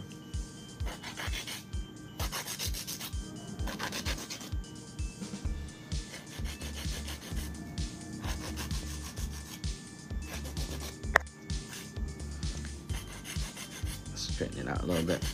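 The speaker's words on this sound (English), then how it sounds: "we're gonna do a nice buffer" A nail buffer rubs back and forth across fingernails in a salon, producing close, soft repeated scratchy strokes in a steady rhythm with brief pauses between passes.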